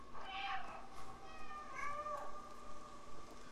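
Meows from a cat character in a video game ring out alone, a couple of short mewing calls over a steady low background hum.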